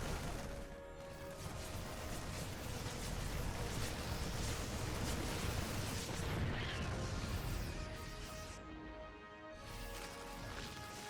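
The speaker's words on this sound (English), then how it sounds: "The tanks will siege." Siege tanks in siege mode firing in a StarCraft 2 ZvT match, heard as a dense, continuous wash of booming impacts and crashing battle noise with little break.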